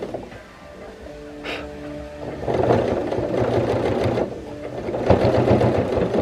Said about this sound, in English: Stay on the same stitching line.